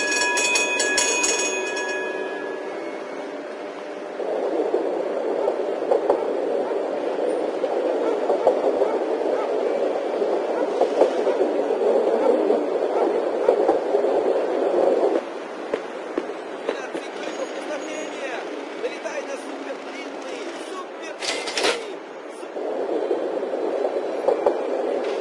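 A train on the transit system of the video game Mafia 2 gives a steady, broad mechanical rumble of rail travel that rises and falls, with sharp clanks breaking in, and a voice talks over the start.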